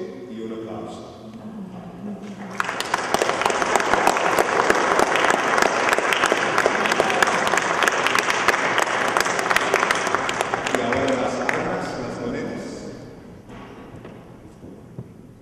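Wedding guests at a Bolivian ceremony in Maryland break into loud, sustained applause right after the couple's kiss, rising quickly, then tapering off over several seconds, with voices mixed in at the start and end.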